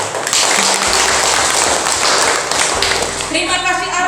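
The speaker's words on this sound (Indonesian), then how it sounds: "Tepuk tangan dulu untuk Ariel." Classmates in a school lesson clap for a student, a busy patter of hands that runs through the whole stretch, with a teacher's voice and other speech heard over and around it.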